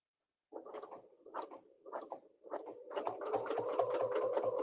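A sewing machine top stitching a quilt runs in several short bursts separated by pauses, then settles into a longer continuous whirring run, close and moderately quiet, with no talk.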